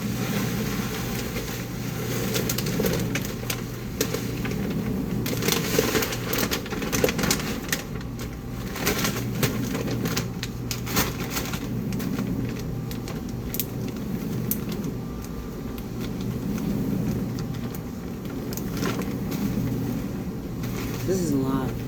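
A home dishwashing machine runs in the background with a steady low hum and sloshing rumble, heard under a person talking over it for the whole stretch.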